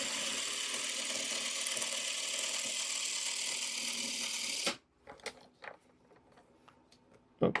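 A sewing machine lock-stitching a diamond pendant runs as a steady, even mechanical whir for several seconds, then stops abruptly, leaving a few faint clicks and small handling taps.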